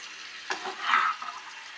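Chicken sizzles softly in a pan as it is slowly sautéed for a Bengali chilli dish, a steady low frying hiss with a brief stir of scraping in the middle and no talking.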